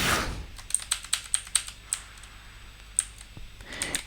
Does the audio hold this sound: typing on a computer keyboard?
yes